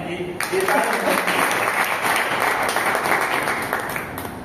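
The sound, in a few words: applause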